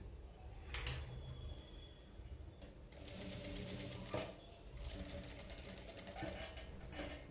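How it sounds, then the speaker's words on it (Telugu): A sewing machine runs in bursts while stitching invisible piping onto the neckline of a cut-work blouse, its needle chatter loud and close with short pauses between runs. "ఆ పైపింగ్ దగ్గర ఇలా ఒక స్టిచ్చింగ్ వేస్తాను"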